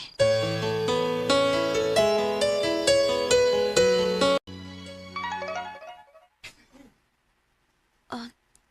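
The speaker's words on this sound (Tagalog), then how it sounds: "Si Tito Andre nag-text" A mobile phone text message tone plays loud and near, a bright repeating melodic ringtone that stops suddenly. A few softer sounds follow, including a brief throat noise.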